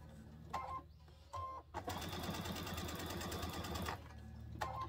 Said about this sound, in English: So backstitch when you start and just keep on going, and just be careful to follow that guide.